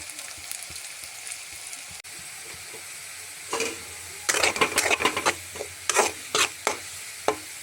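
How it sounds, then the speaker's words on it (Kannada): Onions fry in a pan with a constant soft sizzle, joined after a few seconds by a run of close, scraping stirs of a utensil against the pan, with no talk. "ಈ ಥರ ನಾನು ಉಳ್ಳಾಗಡ್ಡಿ ಹಾಕಿ ಹಿಂಗೆ ಹುರ್ಕೊತೀನಿ ನೋಡಿರಿ."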